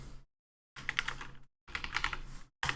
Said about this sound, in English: One day I'll learn how to use a keyboard.